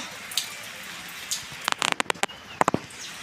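Rain in a village setting patters steadily as a soft hiss, broken by a few sharp, close drips and taps on a surface in quick irregular bursts.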